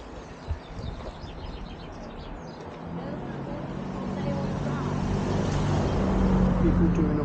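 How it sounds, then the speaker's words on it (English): Road traffic of cars and motorbikes passing along a road on an Advent walk, a steady engine rumble that swells from moderate to louder and nearer toward the end, with faint bird chirps early on. "Got a whole run of cars and motorbikes"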